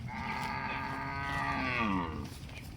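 A Jersey cow on a farm lets out one long, drawn-out moo at moderate distance, steady and loud for nearly three seconds before tapering off.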